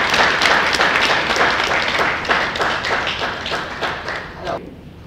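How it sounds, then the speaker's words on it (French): Close, loud applause from an audience at a book launch for a Congolese author, many hands clapping in a dense burst with some distinct nearby claps, fading near the end. "On peut l'applaudir quand même."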